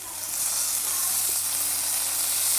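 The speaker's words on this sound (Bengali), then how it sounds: "আর একটু ভেজে নেব পেঁয়াজ মরিচটা" Onion, chilli and potato fry in oil in a pan, giving a close, steady sizzle with a soft hiss that holds evenly throughout, and no talk is heard.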